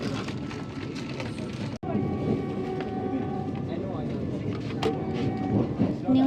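A Vande Bharat train pulling out on the Kolkata to Darjeeling run carries a continuous low rumble and rattle, heard from inside the carriage with voices in the background and one brief sharp break.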